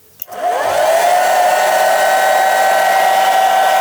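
A hair dryer powered by a Fossibot F1200 portable power station clicks on and settles into a steady, high-pitched whirring hum that runs continuously and close by.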